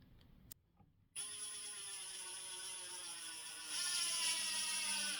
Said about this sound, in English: Now I'm going to drive in my screw.